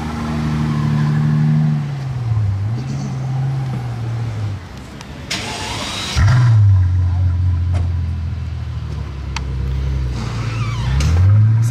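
Mercedes SL65 AMG Black Series with its V12 engine driving past, a loud throaty engine note rising and falling through gear changes and revs, with nearby traffic.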